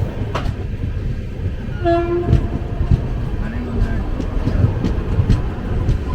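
A train rumbles past in Lucknow, India, with steady low clatter and a brief horn toot in the middle, amid outdoor background noise.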